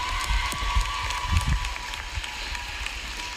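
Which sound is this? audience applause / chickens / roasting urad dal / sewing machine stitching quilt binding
audience applause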